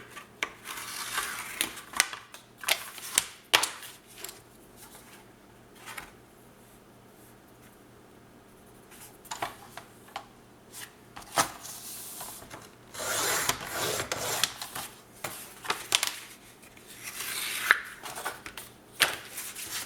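Two pieces of material cut by hand for a perpetual calendar shelf: intermittent scraping and rubbing strokes in irregular bursts with quiet pauses between, close and moderately loud.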